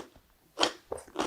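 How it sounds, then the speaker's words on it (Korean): Crisp whole dongchimi radish (Korean water kimchi) is bitten, giving two or three sharp, close crunches in quick succession after a brief quiet moment. "무가 굉장히 아삭아삭하니 맛이 잘 들었어요."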